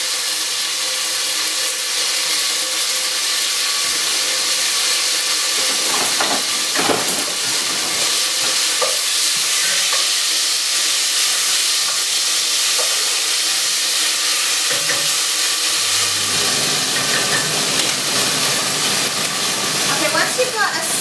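Onions and anchovies frying in a pan for a spaghetti bolognese, a loud, close, continuous hissing sizzle with occasional stirring scrapes and a shift in tone near the end.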